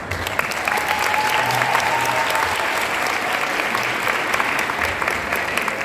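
A crowd at a police event in Seville applauds loudly and steadily, a dense wash of clapping that holds at an even level throughout.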